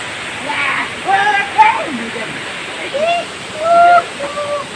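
Water pours and rushes steadily into a village swimming pool, a constant hiss under close, animated talking.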